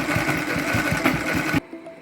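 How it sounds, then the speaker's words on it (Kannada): A sewing machine rapidly stitches a full-sleeve seam on a ready-made kurti, its needle thumping in a quick, even rhythm close up before it stops abruptly. "ಇವಾಗ ಹೀಗೆ ಎಂಡ್ವರೆಗೂ ಸ್ಟಿಚ್ನ ಹಾಕ್ಕೋಬೇಕು"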